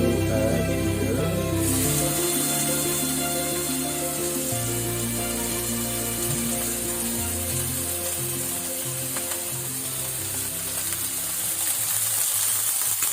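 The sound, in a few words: steak frying in a pan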